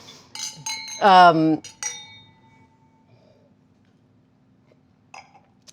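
Wine glasses clink together in a toast at a restaurant, a few bright chimes ringing out right after a short burst of voices, then fading into quiet with a faint clink near the end.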